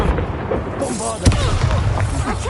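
A Bombarda blast spell goes off in Hogwarts Legacy, a sharp booming impact near the middle amid a busy combat mix, with voices speaking around it.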